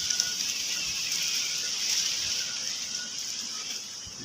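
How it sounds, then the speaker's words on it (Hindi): A sudden dust storm with rain batters a tower, the wind making a steady, loud rushing hiss with a thin whistling edge that holds throughout without any talking. "ये हमारे टावर की आवाज़ें आ रही हैं। टावर से आवाज़ टकरा टकरा के आ रही है"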